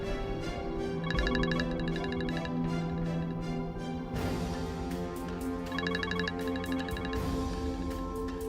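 A telephone rings in a tense Indonesian drama scene, its repeated electronic ringtone bursts sounding loud and close over a steady background music bed, with no talking.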